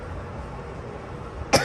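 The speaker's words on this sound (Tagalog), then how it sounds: "Kaya inuubo ako." A single sharp cough from a person in a hot room with broken air conditioning, close and abrupt at the very end after a stretch of low room hum.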